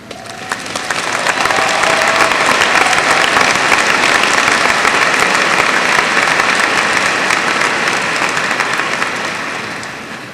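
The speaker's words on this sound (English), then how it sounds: "Will those teachers who are present this evening stand as we applaud them for their" A large audience at a 2002 high school graduation gives the IB teachers loud, sustained applause that swells, holds dense for several seconds and tapers slightly at the end.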